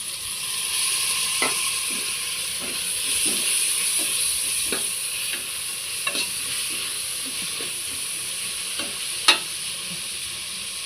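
Prawn biryani masala with tomato sizzles steadily in a pan, with scattered clicks and scrapes of stirring and one sharper knock near the end, no talk.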